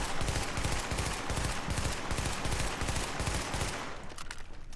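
Rapid, sustained assault rifle fire in The Division, dense repeating bursts in a steady loud rhythm that drops off near the end.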